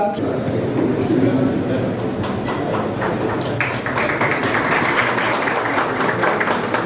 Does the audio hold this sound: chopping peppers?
no